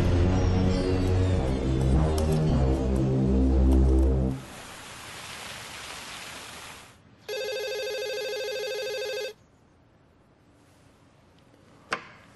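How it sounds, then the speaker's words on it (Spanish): A telephone rings once in a Spanish-language telenovela, a sharp, steady electronic ring lasting about two seconds after music fades into room noise, followed by a click. "¿no hay nadie en esa casa que conteste el teléfono, por Dios?"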